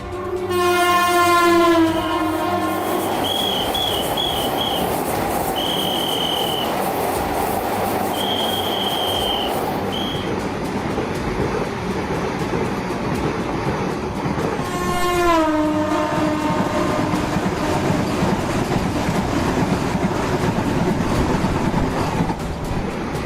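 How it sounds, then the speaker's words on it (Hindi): A Vande Bharat train runs along a mountain railway line in Jammu and Kashmir, its horn blaring in repeated long blasts near the start and again midway over a steady, loud rumble of wheels and carriages, with brief high squeals. "भारत भी पहाड़ों में रेलवे लाइन बिछाकर ट्रेन दौड़ा सकता है, वो भी 85 किलोमीटर की रफ्तार से"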